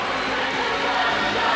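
An arena crowd of 17,000 at the Capitol Center watches a 1982 professional artistic figure skating show, a steady, even roar of many voices filling the hall with no single voice standing out.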